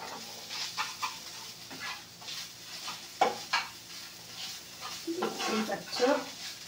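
Spiced egg bhujia filling fries in a pan with a light sizzle, broken by irregular scraping and tapping strokes of a spatula, moderately close and without talk.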